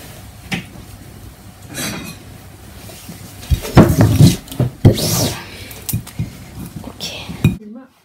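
Plates and dishes clink and clatter close by in a kitchen while lychees from Malaysia are peeled and eaten, with several sharp knocks and rubs of crockery among faint voices.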